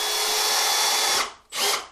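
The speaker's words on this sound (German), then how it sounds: "Und jetzt geben wir überall die Schrauben hinein." A power drill drives a screw into a drywall ceiling substructure, a loud close whirring burst that stops, then a short second spin.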